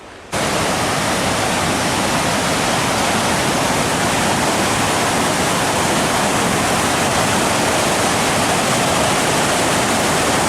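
Canyon Creek in the Bitterroot National Forest roars steadily and loudly up close, a constant broadband wash of rushing mountain water that starts abruptly and never lets up.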